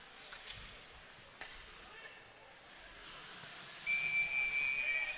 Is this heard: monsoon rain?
no